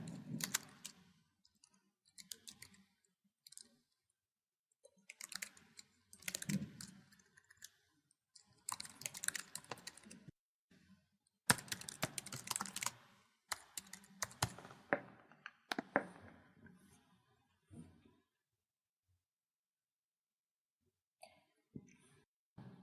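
Someone types an address on a computer keyboard in irregular bursts of close, crisp key clicks separated by short pauses, with a few faint coughs or throat sounds between them.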